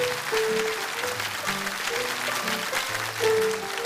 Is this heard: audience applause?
yes